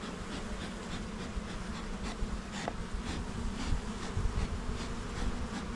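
Dense, steady buzzing of many honeybees around a hive, a continuous droning hum with individual bees passing close now and then.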